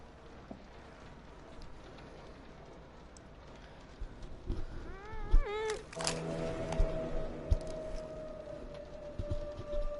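Cats yowl and screech in a fight, starting as a rising wavering wail, then breaking into sharp caterwauls and scuffling thumps over a low steady background hum, fairly close and loud.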